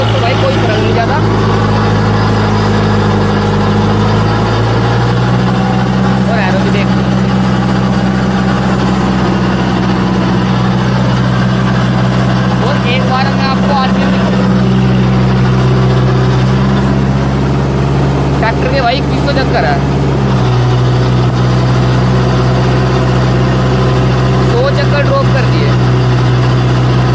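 Kubota MU4501 4WD tractor engine idling steadily with a low, continuous rumble throughout, while someone talks nearby.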